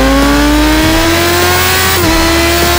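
Yamaha MT-09 motorcycle set to its MT sound mode through an add-on sound module, a loud, close engine note revving upward in long steady pulls with brief drops between, no talking.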